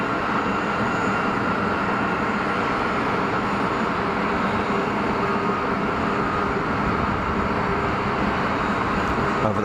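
An EasyJet airliner on final approach to Geneva Airport, heard as a steady, broad engine roar that stays loud and even throughout, with no talk over it.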